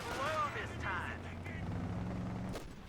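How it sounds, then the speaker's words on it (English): Machine gun suppression fire in a WWII strategy video game, heard as dense rumbling gunfire and distant booms under a commentator's continuous talk, ending with a sharper crack. "MG gets a good suppression burst off on those REs on the far west-hand side of the map."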